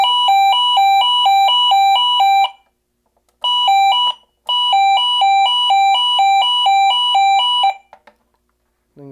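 A Simplex 49CMT-WRF fire alarm horn alternates rapidly between a high and a low tone, sounding loud in long bursts separated by brief silences.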